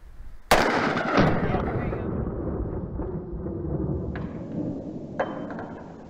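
A single loud gunshot fired at a police bulletproof shield gadget cracks out and booms with a long rolling echo, followed by a couple of fainter knocks.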